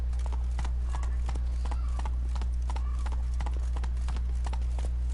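Geralt's horse Roach in The Witcher 3 gallops in a fast, regular hoof-beat rhythm, close and prominent over a steady low hum.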